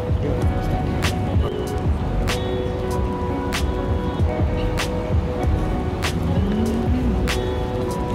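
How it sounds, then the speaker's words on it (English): Arcade racing simulator game in Japan, engine drones and tire squeals under repeated sharp clacks and a steady electronic hum, an indoor game-centre din with no clear talking. "they're doing something over there, like some kind of racing simulator."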